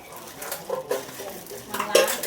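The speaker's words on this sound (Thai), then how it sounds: "แล้วก็จะคลุกเข้าไป คลุกเข้าให้เข้ากันนะครับ" Northern Thai larb being mixed by hand-tool with northern larb chili, giving several close clinks and scrapes of utensil against bowl in an irregular rhythm, with no talk.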